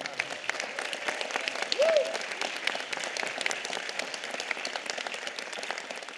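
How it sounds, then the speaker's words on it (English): Audience applause fills a county board of supervisors meeting chamber in Los Angeles, a steady dense clapping that holds loud and even throughout, with a brief murmur rising near the start. "could you give her another applause,"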